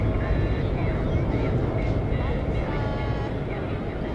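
An airliner rumbles past at Manchester Airport, a loud, continuous low roar of jet engines that fills the whole stretch and fades only slightly, with faint voices beneath.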